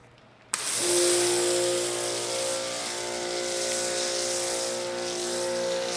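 A foam sprayer coats a car in thick suds during a hand wash, starting with an abrupt burst and continuing as a steady, loud hiss close by.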